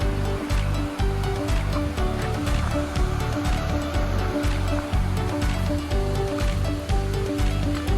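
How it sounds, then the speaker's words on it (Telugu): A stream flows under a bridge near Hebbe Falls, a steady, loud rush of water that keeps up without a break and with no voices over it. "గైస్ వాటర్ సౌండ్ అన్నా కదా మీకు ఇందాక, ఇదిగోండి ఇదే వాటర్"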